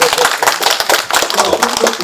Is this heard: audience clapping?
yes